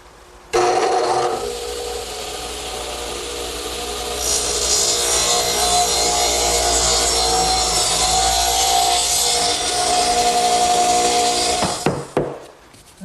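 A power saw rips through a piece of wood in a 90-degree cut for picnic table bracing. The motor spins up and the blade chews steadily through the wood for about eleven seconds, then winds down with a few clatters.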